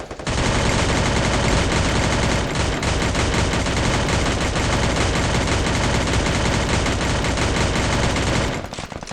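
Loud, continuous bursts of automatic gunfire in a video game shooting match, rapid and dense for several seconds before cutting off abruptly.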